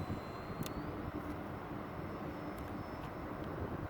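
E-flite AT-6 RC model airplane, 1.5 m span, flying with full landing flaps, a continuous broadband electric motor and propeller drone heard steadily from nearby, without talk.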